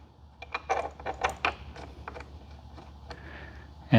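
A bolt being threaded in while a helmet lock is installed on a Suzuki GSX-S1000GT+ with bags, heard as a series of small metallic clicks and ticks, close and fairly quiet, with a louder knock at the end.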